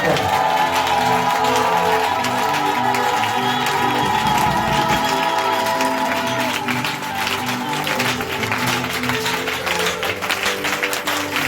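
A church congregation cheers and applauds at an evening worship service, a dense continuous roar of clapping and voices over steady music, loud and sustained throughout.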